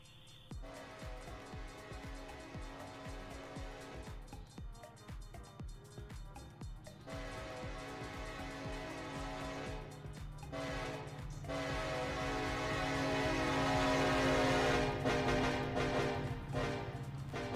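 A locomotive horn in the Run 8 train simulator game sounds a crossing sequence of long and short blasts over rumbling rail noise that swells louder as the train gathers speed.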